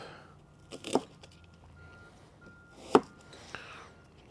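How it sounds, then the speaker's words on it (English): Onions being chunked with a knife on a cutting board for homemade garden hot sauce: a few sharp, sparse chops, two standing out clearly, against quiet kitchen room noise. "I'm going to take my onions and just chunk those up"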